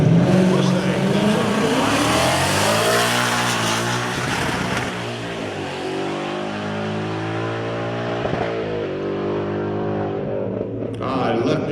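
A supercharged Ford Mustang idles and warms up in the right lane at a drag strip, its engine a loud, steady rumble close by with shifting pitch, and a brief rise near the end.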